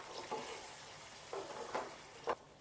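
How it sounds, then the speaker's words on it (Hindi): A spoon stirs whisked yogurt into chicken with tomatoes in a frying pan. Faint sizzling runs underneath, and a few soft scraping strokes come at irregular intervals. "दही को हम अच्छे से मिक्स कर लेंगे"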